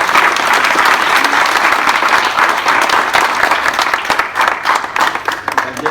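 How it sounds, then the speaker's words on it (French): Applause fills a town hall ceremony honouring a retiring municipal secretary, a loud, sustained crowd clapping that stays dense throughout and thins slightly toward the end. "Voilà, donc on peut l'applaudir."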